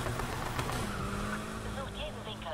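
Car engine in Need for Speed Heat racing online, revving and roaring with some tire squeal and engine whine, while excited voices talk loudly over the game sound.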